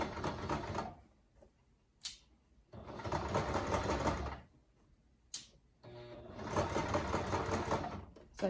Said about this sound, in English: you want to be sewing just along that folded over edge.